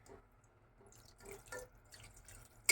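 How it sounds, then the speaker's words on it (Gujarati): Water trickles and drips into a pan of Indian papdi (valor bean) vegetable curry, a few soft splashes and drips at close range against a quiet background. "હવે આપણે આની અંદર પાણી નાખી દઈએ."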